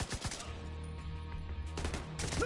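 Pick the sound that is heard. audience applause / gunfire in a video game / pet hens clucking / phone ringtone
gunfire in a video game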